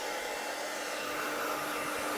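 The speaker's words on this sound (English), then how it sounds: "I'm going to take the nozzle off the hairdryer" A hairdryer with its nozzle removed blows in a steady, continuous whooshing hum, close and moderately loud, with no voices.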